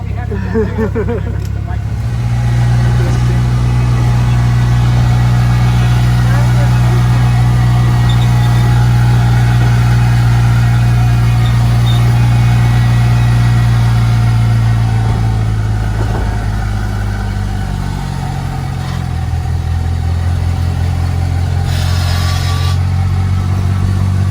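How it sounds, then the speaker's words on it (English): The engine of a small shuttle vehicle at the USS Lexington Museum on the Bay runs at a steady low hum close by, with a slight drop in pitch and people talking over it. "I have a little shuttle that takes you up."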